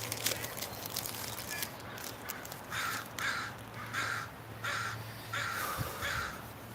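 Crows cawing in a windy park: repeated bursts of harsh caws come in a rough rhythm through the second half, over steady wind rumble, with scattered crackly noise earlier on.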